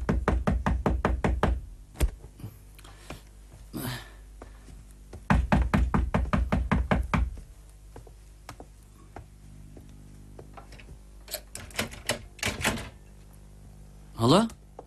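Two bursts of rapid, loud knocking on a door, each a quick run of sharp raps, separated by a quiet stretch with a few scattered thumps, ending with a brief muffled knock.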